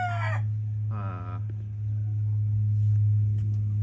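A Sweater gamefowl rooster gives a short crow, followed by a longer crowing call, near and fairly loud over a constant low electrical hum, with faint distant sounds after.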